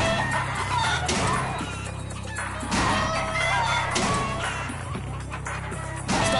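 Chickens cluck and squawk continuously in a video game scene, a dense busy flock sound close by with occasional louder bursts, and no speech over it.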